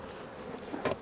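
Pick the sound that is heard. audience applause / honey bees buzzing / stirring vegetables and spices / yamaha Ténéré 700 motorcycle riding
honey bees buzzing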